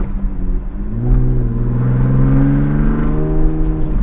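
Straight-piped, stage 3 Audi B5 S4 exhaust revving up and holding a loud, raspy, droning note at close range, with rising pitch and steady, buzzy power and no talking.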